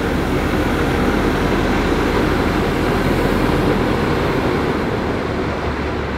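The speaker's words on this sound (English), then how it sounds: "Oh, that noise is the bow thruster." Bow thruster of a super yacht departing the harbour at Nice, a steady loud low-pitched mechanical rumble and whir that holds unbroken throughout, with no voices over it.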